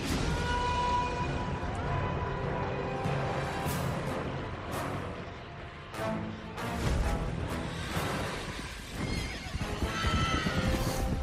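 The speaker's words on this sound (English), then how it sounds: "With the release of the fire steeds, Kratos was now in the hands of the beasts." Fiery steeds in the video game God of War neigh and whinny repeatedly over a rumbling, busy game soundscape, with several loud, sharp cries across the stretch.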